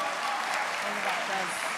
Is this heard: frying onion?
no